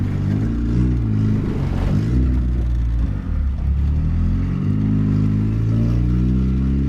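Boosted F23 Honda Accord four-cylinder engine idling steadily, a continuous low rumble with harmonic drone and slight revving fluctuation, close and loud with no talk.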